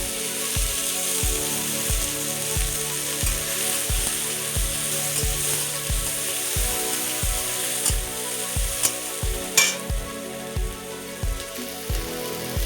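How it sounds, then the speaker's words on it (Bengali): Chopped onion frying in oil with cumin and whole garam masala for an egg curry, a continuous loud sizzle under a rhythmic low thumping and a few sharp scraping clicks toward the end. "এবার আমি পেঁয়াজ কুচিটা দিয়ে দেব।"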